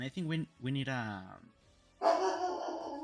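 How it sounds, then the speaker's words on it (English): A pet dog barks and yelps a few times nearby, loud and brief, close to someone talking about a card game, with his speech heard before the barking. "Oh, that's my dog."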